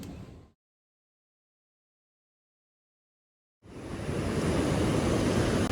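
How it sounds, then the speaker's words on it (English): Surf washes up on a beach on the Ecuador coast near Montañita. A short burst of rushing water fades into full silence, then loud, steady breaking waves return and continue to the end. "let's take a walk on the beach."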